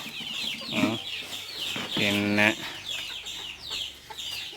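A mother hen with chicks on a poultry farm gives a few close, repeated clucks in short bursts, and a voice speaks briefly in between.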